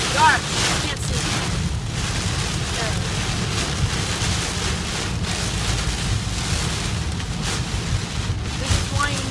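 Heavy rain pelting down during a motorcycle ride, a dense continuous hiss mixed with buffeting wind noise on the microphone, loud and unbroken, with a voice speaking now and then.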